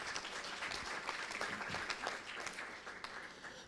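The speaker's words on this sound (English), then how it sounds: "Let's give her a round of applause." An audience at an energy efficiency and electric mobility conference applauds the Swedish ambassador with a dense, sustained wash of clapping that holds steady throughout, heard from within the room at moderate level, without speech.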